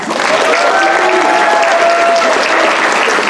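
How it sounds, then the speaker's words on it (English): Audience applauding performers and the production team at Stanford's 11th annual Pilipino Cultural Night, a full, sustained burst of clapping from a large crowd filling the hall with no pause. "So let's give them a round of applause."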